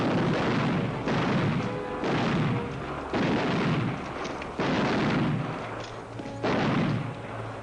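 Gunshots in a 1940 western film showdown, a series of loud, heavy reports roughly every second and a half, each booming and echoing before the next, with no talk.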